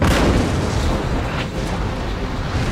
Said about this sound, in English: Oh, but they're firing down from the fortification.